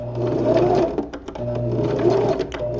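A sewing machine stitches a stress seam across the bottom of the palm on spandex gloves, its motor whirring in two steady runs with a brief pause between them, close and fairly loud.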